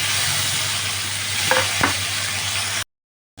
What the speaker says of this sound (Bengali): কালো জিরে দিয়ে আমি টমেটোটা দিয়ে দেবো।